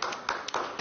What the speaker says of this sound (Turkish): Babalarının filmi yasaklandığını alkışlıyorlar.